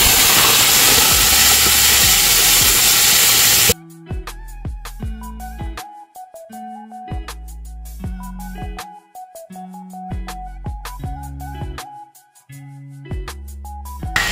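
Beef hits a hot dolsot stone bowl and sizzles with a loud, steady hiss for about four seconds, then it cuts off abruptly and music takes over.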